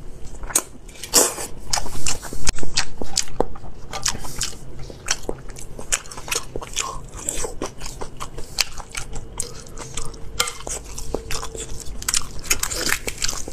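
Chinese food eaten close to the mic in a mukbang show, with sharp crunchy bites and wet chewing repeating steadily throughout, loud and near, with no talking.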